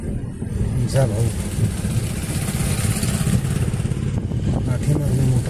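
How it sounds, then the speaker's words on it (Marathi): A motorcycle engine drones and passes close by on a village road, loud and steady, with people talking over the engine noise. "पाठीमागून मोटरसायकल आली पुढून मिळाली"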